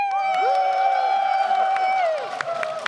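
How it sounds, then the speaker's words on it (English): An audience at a PAX West Zelda panel cheers and whoops for Team 2D in a short, loud burst that fades out, with scattered claps at the end. "So Team 2D, you're gonna cheer if you think that's the best."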